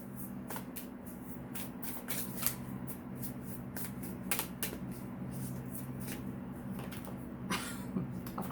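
Sacred Traveler Oracle cards being shuffled in quick, crisp riffling bursts repeated over and over, close and fairly quiet, with no talking.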